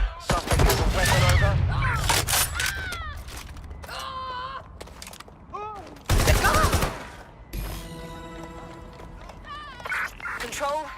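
Shotgun blasts and scattered gunfire in the video game Watch Dogs Legion, loud bursts mixed with shouting voices, groans and game effects, with people talking throughout.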